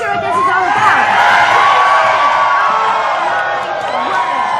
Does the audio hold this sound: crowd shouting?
yes